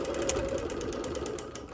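A sewing machine quilts on wool around embroidered flowers, a soft, rapid steady stitching hum with fine rhythmic ticking, fairly quiet and unaccompanied by voices.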